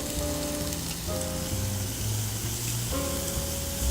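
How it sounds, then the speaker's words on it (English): Shallots and vegetables sauté in a hot pan, giving a steady, continuous sizzle and crackle close by, with no talking over it. "Saute the vegetables until they're tender yet."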